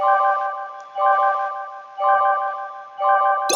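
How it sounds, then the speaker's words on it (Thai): A video game's damage warning alert repeats four times in steady pulses, each a bright electronic tone lasting about half a second, separated by short gaps, with a sharp burst at the very end. "เวลาเดินไปชนก็จะมีเสียงแจ้งเตือน แบบนี้ครับเป็นเสียงดาเม"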